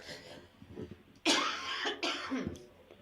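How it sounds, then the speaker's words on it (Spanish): A harsh, loud cough bursts out in two or three rough spasms after a quiet stretch, close by and hoarse. "tienes una tos horrible"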